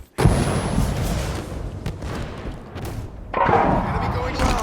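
A grenade blast in the video game Halo 5, a sudden loud thump followed by rumbling battle noise and another burst, with players talking over it.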